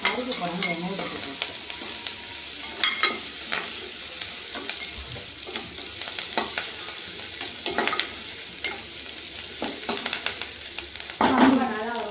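Curry leaves and onions fry in oil for kuzhambu, a constant sizzling hiss overlaid with regular scraping stirs and occasional spoon taps against the pan.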